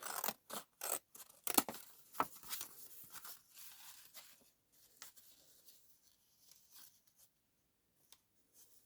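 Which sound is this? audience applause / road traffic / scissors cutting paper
scissors cutting paper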